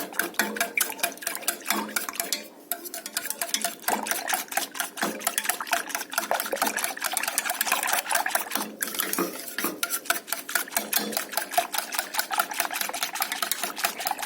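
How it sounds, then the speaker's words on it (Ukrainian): Egg yolks and sugar whisked with a wire whisk in a bowl, making a steady rapid clatter of close, repeated strokes that run almost without pause throughout. "Тепер починаємо збивати. Збиваємо віночком."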